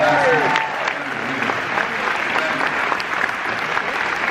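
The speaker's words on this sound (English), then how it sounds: "Well, a round of applause for Henry right there." Warm, sustained crowd applause for Henry at the Canadian Red Cross Newfoundland and Labrador Humanitarian of the Year 2016 awards, dense clapping filling the room, with a voice briefly heard at the start.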